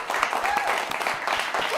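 An audience clapping at a Disney Lorcana event watch party, a steady wash of applause that blends with talking voices throughout the short stretch.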